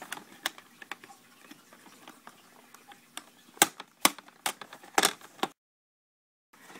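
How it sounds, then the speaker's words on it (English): Sharp plastic clicks and cracks as a plastic bezel is pried off a laptop screen, scattered irregular snaps with a few louder pops near the end, close and fairly quiet, then silence. "if I can get this silly bezel off"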